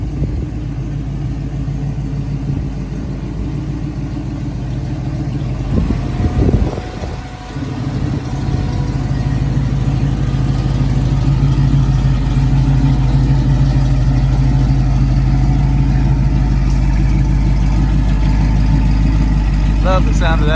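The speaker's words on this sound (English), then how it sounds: "Love the sound of that exhaust." A 1967 Camaro convertible with a 327 V8 and automatic transmission idles steadily through its exhaust, a loud, close, even rumble with a brief blip partway through before settling into a constant low drone.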